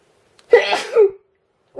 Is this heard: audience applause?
no